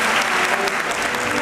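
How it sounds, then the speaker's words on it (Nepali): A crowd at a Pokhara concert applauds to welcome a singer, a loud, dense, continuous burst of clapping that fills the whole moment. "म उहाँलाई जोरदार तालीले हार्दिक स्वागत गर्छु।"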